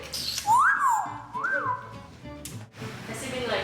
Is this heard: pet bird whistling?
yes